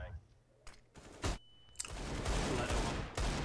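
Gunfire in a Counter-Strike match: a few sharp single shots early on, then a dense, continuous burst of rapid fire that fills the rest of the moment at close range.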